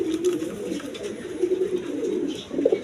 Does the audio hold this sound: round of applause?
no